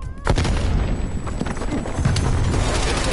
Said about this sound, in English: look out, grenade